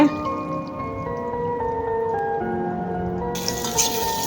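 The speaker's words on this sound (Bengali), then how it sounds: "এখন আমি জল দিয়ে দেবো। জল দিয়ে দিছি, তরকারিটা হয়ে গেছে।" Water is poured into a pan of curry as it cooks, giving a steady, moderately loud trickle and splash with a faint tonal hum underneath, without speech.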